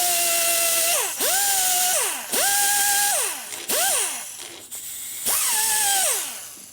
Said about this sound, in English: You don't have to grind it all out, just make the sharp edges go away.